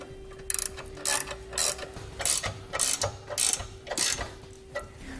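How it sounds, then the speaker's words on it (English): Ratchet socket wrench tightening U-bolts on a Malone 2-inch dual-purpose hitch receiver, about eight short clicking ratchet strokes in steady rhythm, close-up with a faint steady hum underneath. "we're going to use a 3/4 inch wrench or socket."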